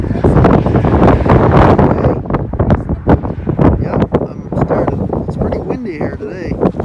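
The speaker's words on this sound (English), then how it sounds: "It's pretty windy here today." Wind on a hilltop with mist over the hills, heavy buffeting and rumbling against the microphone, loudest at the start and then gusting in uneven bursts, with voices briefly heard.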